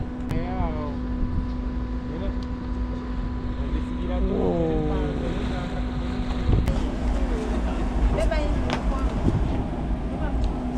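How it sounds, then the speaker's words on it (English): A passenger ship crossing Lake Victoria by night from Mwanza to Bukoba, a steady low engine rumble and hum with wind buffeting the microphone, while a person speaks and chirping, sweeping tones drift by. "I've crossed Lake Victoria by ship."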